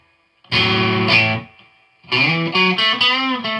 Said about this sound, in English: You can get that kind of buzzy old school sort of distortion.